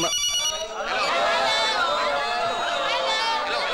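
A telephone rings steadily in a busy restaurant, its warbling electronic ringtone loud and continuous, with crowd chatter beneath it.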